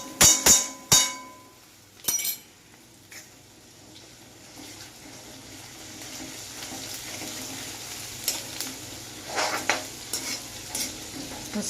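Onions frying in a pan for a tomato-based dish give a low, steady sizzle, broken at the start by a few sharp utensil clinks and later by soft scraping stirs, with no talking.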